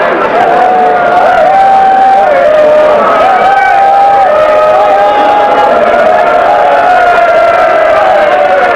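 A crowd at a 1988 match at Waterloo, Vernon Lee against Allen Broadhurst, cheers for Vernon. The cheering is loud and sustained, with whoops and voices rising and wavering inside a dense roar that never lets up.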